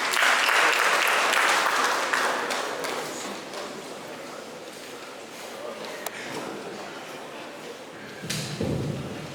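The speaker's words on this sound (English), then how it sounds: "Round of applause, please." Audience applause at a university lecture series event fills the hall, loud and dense at first, then gradually thinning and fading, with a few scattered claps and a brief swell near the end.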